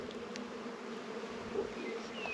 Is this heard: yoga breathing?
no